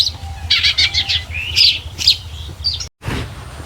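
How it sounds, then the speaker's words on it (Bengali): Birds chirp and tweet in a rapid series of close, bright calls beside rice fields on a winter morning during harvest, with a soft low rumble underneath. "কান পেতে শুনে দেখেন পাখির ডাকটা কত ভালো লাগছে"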